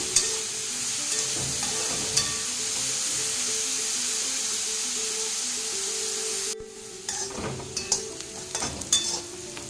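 Bitter gourd pieces sizzling steadily in oil in a pan, a continuous close frying hiss with occasional stirring scrapes, the hiss dropping away near the end as stirring clatter takes over.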